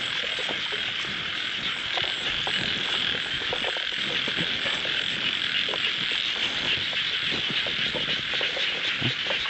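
Frogs croak loudly and densely in a rice paddy in Isan after rain, a continuous chorus of overlapping calls close at hand, with no voices.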